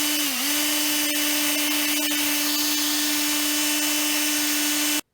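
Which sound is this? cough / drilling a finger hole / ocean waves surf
drilling a finger hole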